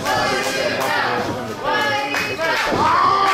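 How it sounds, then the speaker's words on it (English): A wrestling crowd at a no-rope barbed wire deathmatch chants loudly and rhythmically for the wrestler Mouse, a dense, sustained roar of many voices with shouted swells and occasional thuds beneath. "You hear the chants of Mighty Mouse here as the crowd trying to get behind Mouse"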